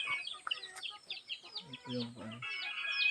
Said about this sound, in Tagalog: Ang dami ng alagang manok.